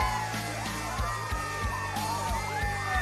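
A crowd cheers, yells and whoops at a lively gathering, loud excited voices overlapping continuously with a regular rhythmic thumping beneath.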